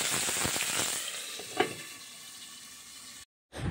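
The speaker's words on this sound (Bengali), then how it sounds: "এই মাছটা ভাজা হলে হবে মাছের ঝাল" Fish frying in a pan in a home kitchen gives off a steady, dense sizzle with faint crackles and one brief sharper spit, continuous and fairly close, before a short cut to silence near the end.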